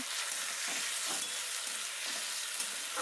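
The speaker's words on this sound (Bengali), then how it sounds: "আমি এই পোস্ত আর বাদাম বাটাটা দিয়ে দিলাম ভালো করে কষিয়ে নেব" A paste of poppy seeds and peanuts fries in a pan in a home kitchen, giving a steady soft sizzle with faint stirring. Close and continuous, with no voices.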